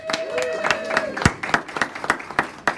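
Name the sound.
audience applause welcoming a speaker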